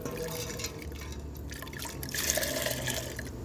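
Water being poured from a container into a homemade fish emulsion plant-feed mix, a continuous splashing and gurgling pour that swells louder toward the end.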